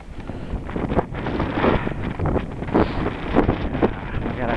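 A cold northerly wind buffets the microphone while someone cycles, giving loud, gusty rushing bursts throughout.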